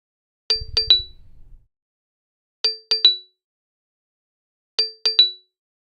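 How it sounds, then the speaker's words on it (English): A stream alert notification plays three quick clusters of bright chiming dings, evenly spaced and loud against silence, with a short low buzzing rattle under the first cluster. "I have 2 sound notifications, and like one of them was like set to rare"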